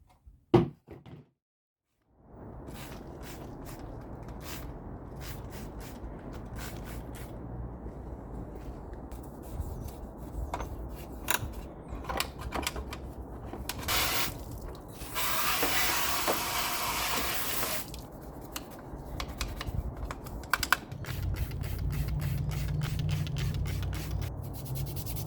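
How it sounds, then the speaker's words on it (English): A Vanagon rear heater is brushed and wet-cleaned up close: repeated scratchy brush strokes and scrubbing, then a burst of spraying water and a steady running-water rush near the end. "I'm going to brush this off and clean it up a little bit"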